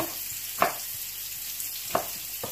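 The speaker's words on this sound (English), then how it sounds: "saute my onions, sliced tomato." Onions and sliced tomato sauté in a pan, giving a steady low sizzle with two brief louder clatters, quiet and without voices.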